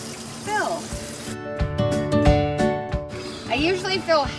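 Cold tap water pours into a large bird cage's water bowl during cleaning, a steady running splash of a couple of seconds, with a person talking just before and after.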